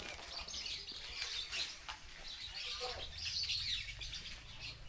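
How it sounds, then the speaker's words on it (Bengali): Birds chirp and twitter in a parrot aviary at Gazipur Safari Park in Bangladesh, a soft, busy chatter of many small calls at a distance, with faint human talk mixed in. "তো আপনারা ভিতরে ঢুকলে পাখির কিচিরমিচির দেখতে পাবেন।"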